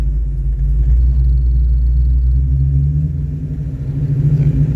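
Manual-transmission car, in first gear at about 1,500 RPM, pulling away as the clutch is slowly let out: a steady, close low engine rumble that dips slightly as the load comes on, with no talk.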